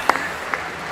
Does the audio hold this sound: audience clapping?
yes